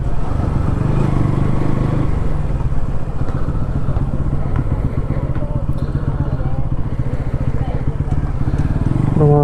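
Bajaj NS200 motorcycle riding on the road toward Suryalanka beach, its engine droning steadily and loud throughout with a busy, rattling low rumble and no gaps.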